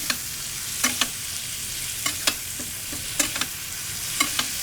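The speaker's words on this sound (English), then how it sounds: "we will baste our steaks" Steaks searing in a pan over medium heat while being basted with garlic butter, giving a steady sizzle broken by sharp spoon clinks and splashes at irregular intervals.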